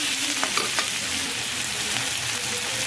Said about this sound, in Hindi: now fry it for